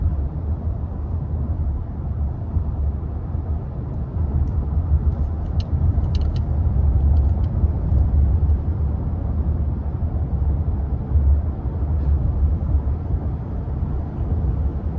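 A 2023 Nissan Frontier with a 3.8 V6 cruises along, heard from inside the cab as a steady low road and engine rumble with tyre noise and faint ticks, no talking.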